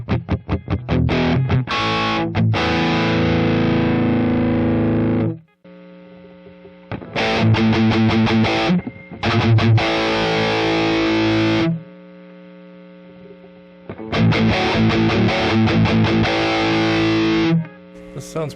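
Electric guitar runs through a BOSS natural overdrive crunch tone, loud distorted chords ringing out in several bursts separated by short pauses with a low hum between them.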